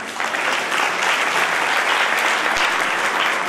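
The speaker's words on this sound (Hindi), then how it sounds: "यदि सहमत है तालियां बजा दो।" Audience applause at a national Arya youth council anniversary gathering, a dense, loud, steady clapping from a large crowd that fills the whole stretch without pause.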